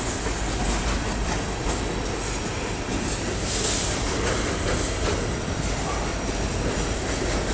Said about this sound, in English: Another BNSF engine on the back.